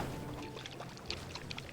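Coconut milk sloshing inside a shaken coconut in the Everglades, a soft watery swish and gurgle repeating in quick bursts close by, with a steady low background hum.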